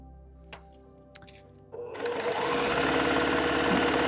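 A sewing machine starts up and stitches a scant quarter-inch seam through a quilt block, its steady, rapid mechanical whir running loud and continuous after a few soft handling clicks.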